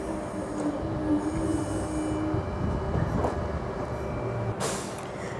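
A train pulls away from a station platform, its wheels squealing steadily in a high, continuous screech over low rumbling rail noise, fairly close, with a brief hiss near the end.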